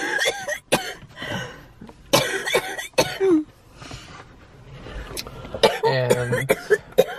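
A person coughs inside a car: several separate harsh coughs and throat-clearing bursts, close and fairly loud, spread across the stretch with low cabin rumble between them.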